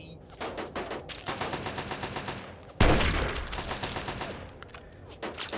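A turret fires in Fallout 3 with rapid bursts of automatic fire at moderate distance. One sharp, louder blast lands midway through the string of shots.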